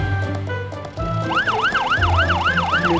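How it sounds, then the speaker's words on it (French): Cartoon fire truck siren in a French children's animation about an airplane crash, a loud wailing up-and-down siren that starts after a second of engine and effects noise and cycles steadily. "Le camion de pompiers va éteindre le feu dans le moteur de l'avion."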